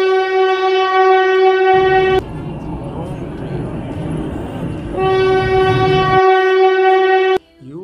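A train horn blares in two long, loud, steady blasts, separated by the rumble of rolling rail cars, then cuts off abruptly.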